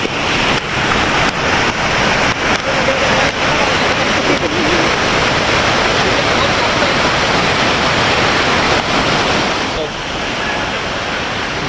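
Continuous rushing water from a cold jungle stream near a waterfall in Maharashtra, a loud, steady broadband flow like a small cascade close by.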